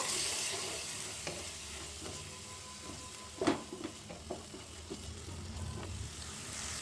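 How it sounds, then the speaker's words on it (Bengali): Spice masala with Kashmiri chili powder fries in a pan for a prawn malai curry, a soft sizzle under scattered stirring scrapes and a few louder knocks, fairly quiet overall. "এবার মশলাটাকে ভালোভাবে কষিয়ে নেব"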